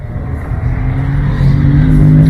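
A TWR Ultima GTR with a full race engine idles and builds in a steady, loud, close rumble that rises slightly toward the end, heard alone with no voices.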